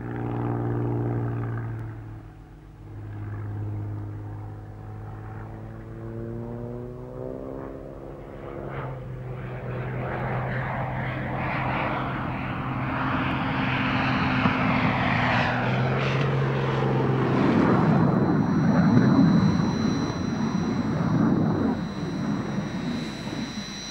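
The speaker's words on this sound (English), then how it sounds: "So, on family day at Scampton, Eric Stinson demonstrates aerobatics in a more mundane aeroplane, the Cranfield A1." A Cranfield A1 propeller aeroplane flies aerobatics at a family-day display at RAF Scampton in 1983. Its engine drones steadily, then swells and rises in pitch as it passes nearer, loud and sustained without speech.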